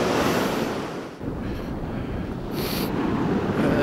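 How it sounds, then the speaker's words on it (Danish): Sea waves break over the shallow water of a Danish coast, a broad rushing surf roar mixed with wind buffeting the microphone, steady and loud with a brief dip partway. "Bølgerne bliver længere i det og bryder"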